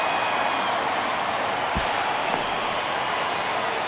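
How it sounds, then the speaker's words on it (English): Stadium crowd noise from the baseball video game MLB The Show 23, a steady broad roar of a waking crowd with a brief low thump partway through, loud and continuous throughout. "you can feel this crowd waking up a bit here as the guys are starting to make some noise with their bats"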